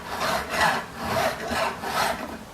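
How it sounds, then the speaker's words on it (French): A large file rasps across hand-hammered silver on a torque being finished, smoothing out the hammer ripples in several steady, close back-and-forth strokes with no voices. "finition, moi j'y vais à la grosse lime"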